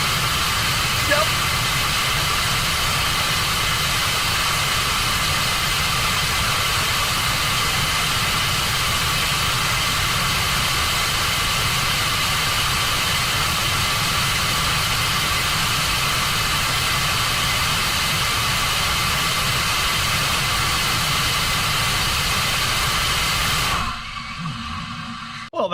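In a desert driving video game, a car engine runs at partial throttle as a loud, steady, unbroken drone with a hissing edge for over twenty seconds. It cuts out abruptly near the end.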